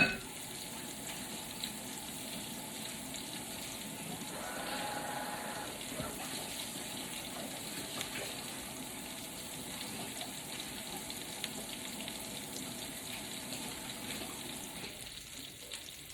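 Crab cakes fry steadily in a pan, a soft continuous sizzle running evenly throughout with no voices over it.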